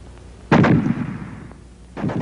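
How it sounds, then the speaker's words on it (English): A WWII American fragmentation grenade explodes close by with a sharp boom and a rumbling tail, and a second blast begins just as the sound cuts off. "The fragmentation grenade."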